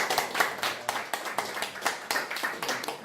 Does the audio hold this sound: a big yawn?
no